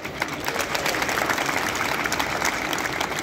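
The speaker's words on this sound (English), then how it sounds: "I also want to please give her a round of applause as well." Audience applause at a 15th August Independence Day celebration hosted by the Hindu Cultural Society in Toronto, a steady dense crackle of many hands clapping that holds at an even level throughout, with no talk over it.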